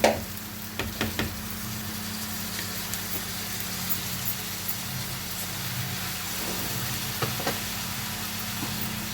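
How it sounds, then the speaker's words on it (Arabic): Basmati rice tipped into a pan of sautéed onions and minced meat sets off a faint, steady sizzle, with a few soft knocks of a utensil at the start. "هبدا اضيف ليها الرز. ده رز بسمتي."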